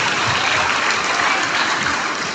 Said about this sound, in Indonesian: Tepuk tangan buat Tokatorong.